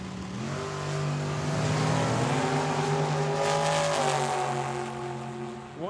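At Tucson Dragway a dragster and a Camaro launch side by side down the strip, engines snarling loudly and rising in pitch together as they accelerate, with no talk over them.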